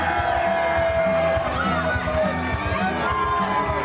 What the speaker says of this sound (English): You hear the guitars kick up, the crowd on its feet,